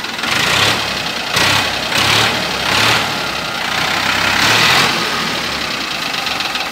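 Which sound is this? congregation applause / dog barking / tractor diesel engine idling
tractor diesel engine idling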